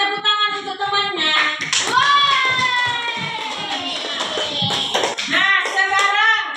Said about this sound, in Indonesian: Ayo nak tepuk tangan untuk temannya